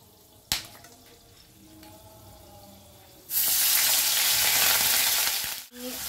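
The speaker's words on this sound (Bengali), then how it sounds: "এবারে আমি পেঁয়াজ বাটাটা দিয়ে দেব।" Onion paste hits hot oil already spiced with cardamom and cinnamon while making Bengali doi maach with rui fish. A loud, steady sizzle bursts up after a quieter stretch with a few clinks, and it holds close and strong.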